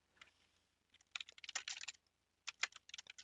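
A terminal command is typed on a computer keyboard in quiet bursts of fast clicking keystrokes, soft and close, with a short pause between bursts.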